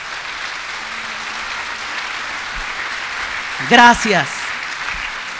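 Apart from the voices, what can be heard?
congregation applauding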